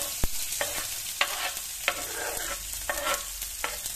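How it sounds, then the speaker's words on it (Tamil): Mustard seeds and urad dal spluttering in hot oil for idli upma, with green chili going in: a steady sizzle broken by sharp popping crackles every half second or so, close up and with no voices. "இதில் கடுகு உளுந்து பொரிஞ்சோடனே இதில் பச்சை மிளகாய் கருவேப்பிலையும் போடலாம்"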